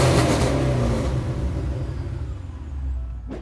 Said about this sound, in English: My voice is changing because the exhaust sounds so awesome.